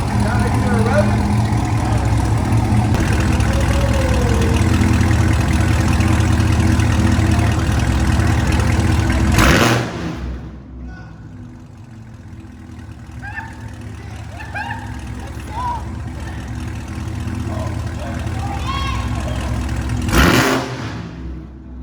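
A 2018 Camaro ZL1 fitted with Kooks long tube headers roars loudly at high revs for about ten seconds, then cuts to a low idle rumble with a brief sharp blip near the end, and people are talking nearby.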